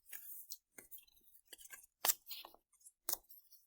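Paper pieces torn by hand in short, crisp rips, about a dozen quick bursts separated by brief silences, close and fairly quiet.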